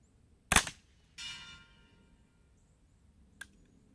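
A Colt AR-15 Sporter II pre-ban carbine fitted with a .22LR subcaliber bolt fires a single sharp crack, followed by a short metallic rattle and a faint click, then quiet.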